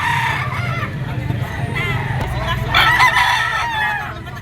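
Roosters crow and cluck at a gamefowl auction market in Lipa, with several calls overlapping loudly and continuously across the clip, one especially strong crow rising near the end.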